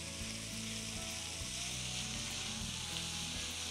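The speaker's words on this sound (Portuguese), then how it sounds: "A linguiça, o bacon. Ó. E vamos fritando." Sausage and bacon sizzle and crackle steadily in a hot pan, a close, continuous frying hiss with a low hum running underneath and no speech.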